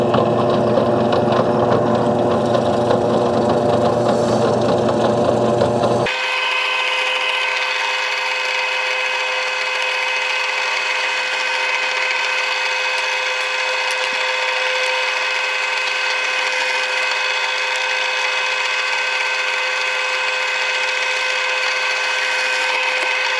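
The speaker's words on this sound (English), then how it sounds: "with the drill press be a nice, straight, perfect drill" A drill press whirs loudly drilling through wood, then shifts to a steady high-pitched drone that holds unbroken and close for the rest of the time, with no talking.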